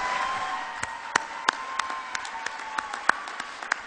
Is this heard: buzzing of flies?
no